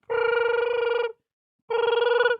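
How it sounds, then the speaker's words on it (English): A telephone rings in two long electronic trill bursts separated by a pause, loud and close with nothing else over it. "you're about to get a phone call."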